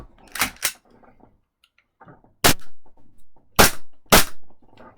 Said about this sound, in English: It's only got a couple shots in it, so I'm going to shoot at my bed there just so it doesn't ricochet around.